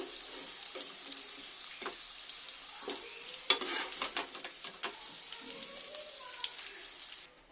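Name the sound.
papaya and potato frying in oil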